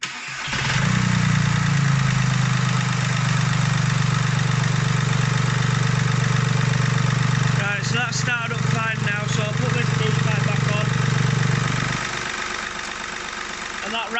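VW 1.4 TDI PD three-cylinder diesel, DPF removed, starting up and settling into a steady, knocking idle nearby, while someone talks over the running engine.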